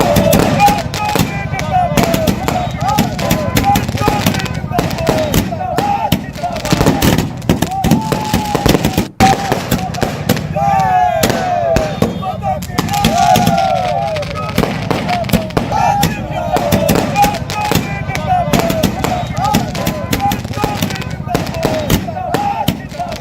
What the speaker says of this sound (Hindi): और देखिए अब जश्न के लिए पटाखे फूटने शुरू हो गए हैं, आतिशबाजी शुरू हो गई है